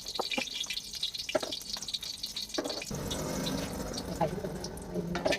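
Tap water runs while a cooking pan is washed in a Thai made-to-order kitchen that cooks stir-fried glass noodles. A few clanks and drips come first, then a steady, close stream of water pours.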